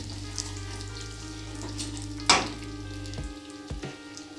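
Cumin, coarsely crushed fennel and asafoetida frying in hot oil for masala karela bhurji, a steady close sizzle with a sharp burst as spices drop in, then softer crackles and a brief clink.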